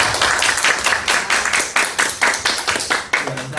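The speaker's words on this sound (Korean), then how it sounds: "박수를 쳐주시면 시작하겠습니다" An evening forum audience claps to open the event, a modest crowd producing steady, fairly loud clapping with slightly rhythmic pulses throughout, no voices over it.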